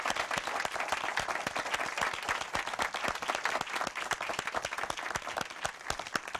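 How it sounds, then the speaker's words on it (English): An audience gives nine performing artists a final round of applause at an award presentation. The clapping is sustained and even, quieter and somewhat distant, and it continues without a break. "let's give them all a final round of applause"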